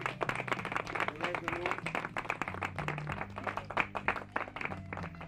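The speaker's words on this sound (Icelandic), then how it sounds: "Við klappa fyrir þeim." Audience clapping at an Icelandic comedy sketch performance, a steady patter of many hands with a low musical tone running underneath throughout.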